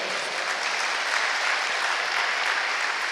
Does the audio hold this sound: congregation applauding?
yes